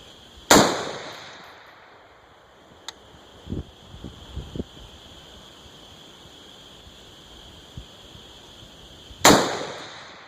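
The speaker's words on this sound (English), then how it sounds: "And these are all going to be shot at 110 yards." Two loud, sharp rifle shots from an LR308 Oracle firing handloads at a 110-yard target, spaced about nine seconds apart and each trailing off in echo, with faint small clicks and handling knocks between them.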